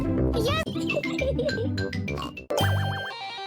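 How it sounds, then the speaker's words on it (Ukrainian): A cartoon pig oinks amid bright jingle music and voices in a Peppa Pig television advertisement, short squeals punctuating the busy, loud soundtrack before a tonal sweep ends it. "Свинка Пепа."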